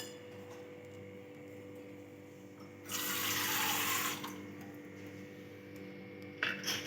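Peanuts rinsed under a running kitchen tap: a quiet background hum, then a loud burst of gushing water for about a second, then a brief second splash near the end, close by with no voices.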